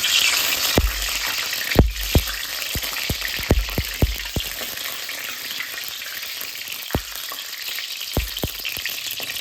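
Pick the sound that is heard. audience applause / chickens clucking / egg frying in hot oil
egg frying in hot oil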